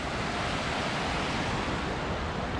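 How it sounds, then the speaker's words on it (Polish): Small waterfall spilling from a valley step across a mountain trail in the High Tatras, a dense, even rushing roar that holds steady throughout at close range. "Kolejny wodospadzik z progu doliny, przecinający szlak."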